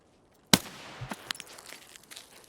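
A single AK-105 rifle shot in Escape From Tarkov, one sharp loud crack followed by a short echoing tail and faint scattered clatter.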